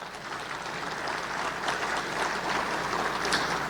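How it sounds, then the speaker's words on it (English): Guests at a Chamber of Commerce monthly luncheon applaud the sponsors, a steady, moderately loud rush of clapping from a roomful of people, swelling slightly toward the end. "Let's give them a big round of applause"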